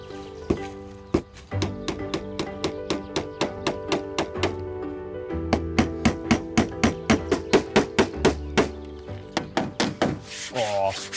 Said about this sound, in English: I can start tacking it in place.